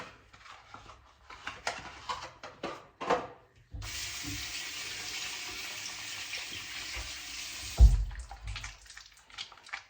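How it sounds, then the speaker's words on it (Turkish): Water runs from a tap in a steady, close rush for about four seconds during face washing at a summer house, with scattered clatter and handling before and after. "tamam şimdi yüzümüzü yıkayalım bakalım"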